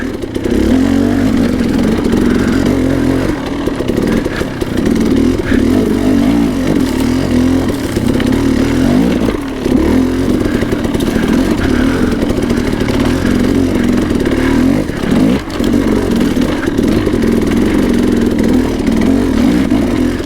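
An enduro motorcycle on a hard enduro canyon trail revs continuously with sharper, quicker throttle response, its engine note rising and falling in steady bursts, loud and close throughout with no talking.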